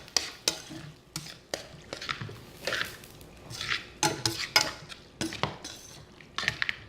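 Stirring pasta salad with pesto and tomatoes in a bowl, with irregular clinks and scrapes of a utensil against the dish and soft wet squishing, close and fairly quiet.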